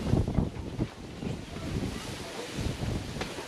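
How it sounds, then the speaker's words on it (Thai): Dry wind gusts across the microphone at Ban Pha Hee campsite, a continuous low rumbling buffet with uneven surges and no voices. "ช่วงนี้ครับที่บ้านพาฮีครับลมแห้งอากาศเย็นครับ"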